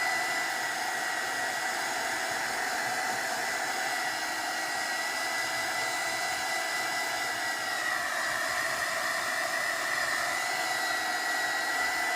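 A dryer blows a steady, loud stream of air onto foil on journal cards, holding one unbroken whoosh throughout with a slight shift in tone partway through.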